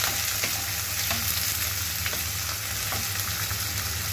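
Beef liver and chopped onion fry in a pan with a steady close crackling sizzle, dotted with faint taps of stirring, and no voices.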